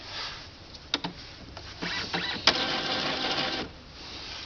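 An Epson inkjet printer powering up after a carriage jam, with a whirring motor and its print carriage sliding, broken by intermittent clicks and ratchety taps, moderately close.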